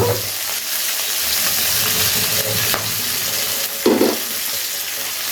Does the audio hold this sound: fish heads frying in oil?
yes